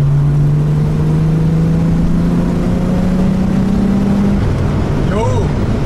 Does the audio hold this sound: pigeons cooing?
no